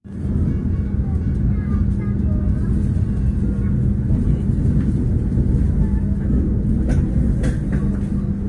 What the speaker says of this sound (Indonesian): sekarang kereta api Argo Wilis sudah tiba di Banjar